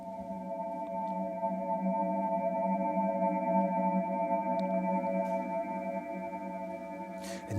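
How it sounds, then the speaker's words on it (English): Sonified star or galaxy rendered as a steady, sustained drone of layered tones holding unchanged for several seconds, with faint swishes near the end. "This is the sound of a star"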